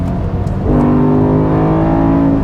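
A BMW M5 with a V10 engine and six-speed manual blips its revs on a rev-matched downshift, a loud, steady mechanical roar that climbs sharply in pitch partway through and holds high and close to the end.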